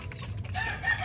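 A Mitrablue Speeder grey rooster crows among noisy, lively flock birds, the call rising after a half-second of low background rumble and carrying clearly to the end.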